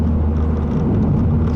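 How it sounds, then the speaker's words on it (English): Steady exhaust drone and road rumble inside a 2008 Mazdaspeed3 on 18-inch aftermarket wheels while driving, a loud, constant low hum with no talking. "Noise levels, you hear the exhaust, you hear the road, you hear pretty much everything in this car."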